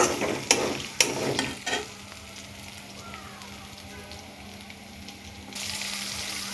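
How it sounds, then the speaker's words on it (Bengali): Onion paste and meat fry together in a pan: a few sharp utensil knocks from stirring come first, then a soft, even sizzle runs beneath that grows a little louder near the end. "পেঁয়াজটা আর মাংসটা ভালো করে ভেজে নেব একসাথে"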